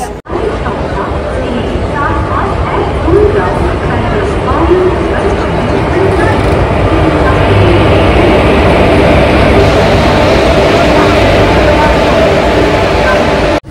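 The Teesta Torsha Express pulls into a busy station, its rumble loud and sustained beneath the babble of a crowded platform, with people talking close by.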